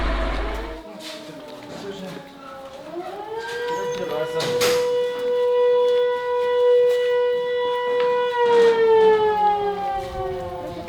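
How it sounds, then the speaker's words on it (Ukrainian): An air raid siren wails over a town about 8 km from the Russian border, a loud, sustained rising and falling tone that holds steady for several seconds, with a brief thump partway through. "Третя за день сьогодні тут лунає повітряна тривога, тому усі переходять в укриття."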